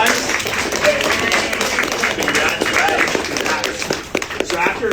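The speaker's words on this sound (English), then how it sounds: "Give a round of applause." Audience giving a round of applause at a business sales seminar, a full burst of clapping from a crowd with voices mixed in, holding steady throughout.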